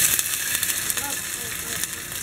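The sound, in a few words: garlic and onion frying in pan for dipping sauce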